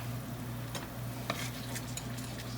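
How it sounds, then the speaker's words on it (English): A pork chop pan sauce with Dijon mustard stirred in sizzles steadily in a pan, with a faint scrape and a few light utensil clicks against the pan, and no talking. "Get that all stirred up so it can start thickening."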